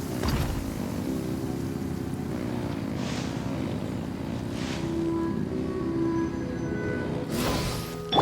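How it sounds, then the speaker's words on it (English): Boat engines in Genshin Impact rumble in a steady, continuous low drone with splashing water and a few brief swells of spray over the engine noise. "Rev the engines!"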